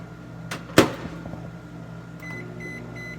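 A low, steady microwave oven hum with a sharp clunk early on, followed by a short series of high electronic beeps.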